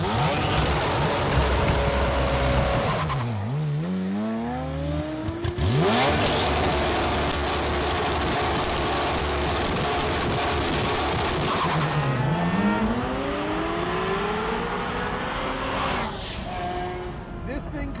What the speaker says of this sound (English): Ferrari V8, turbo wastegate, the click of a gated shifter.